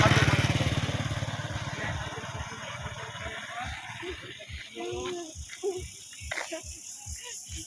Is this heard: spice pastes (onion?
no